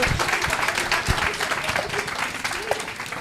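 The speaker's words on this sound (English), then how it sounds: "Let's give them a round of applause." Audience applause at a League of Women Voters city council candidates forum for Ward 1, steady dense clapping filling the room at moderate level, with some voices mixed in.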